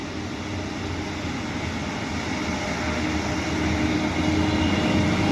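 A passenger train runs between stations toward Bath Spa, giving a loud, steady broadband rumble and rush that swells slightly as it goes, with no voices.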